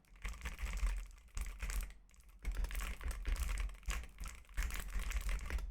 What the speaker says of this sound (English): If I type right now, can you hear it?